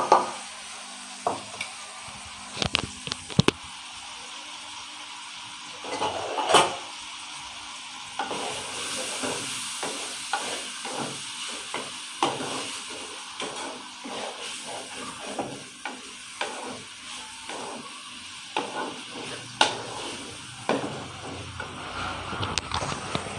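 Onions with turnip and meat sizzle in a pot for a turnip gosht curry while a spoon scrapes and stirs in an irregular rhythm; the frying hiss stays soft and steady beneath louder clinks.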